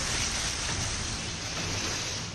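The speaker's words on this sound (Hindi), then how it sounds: "मुंबई पर बारिश का कहर टूटा है। आसमान से बरसती बौछार मुंबई में हाहाकार मचा रही है।" Heavy monsoon rain pours down over a flooded Andheri subway in Mumbai, a dense, steady hiss of water that fills the whole clip without pause.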